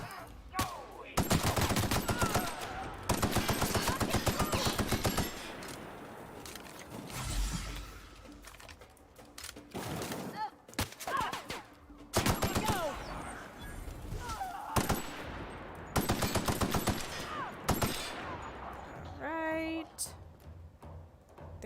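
Bursts of gunfire from Parvati shooting in The Outer Worlds, several loud rapid volleys separated by short pauses, with game ambience and occasional mechanical clanks between them.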